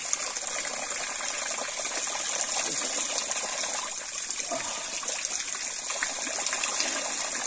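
Water from a natural spring flows in a steady, close trickling gush that holds constant throughout, with no voices.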